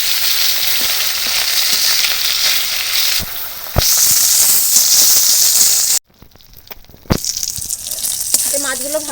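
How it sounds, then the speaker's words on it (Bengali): Loud, continuous sizzling of fish frying in oil, with clicks from a utensil, a sudden drop partway through, then the crackling resumes. "আমি বাকি মাছগুলোও এইভাবে ভেজে নেব"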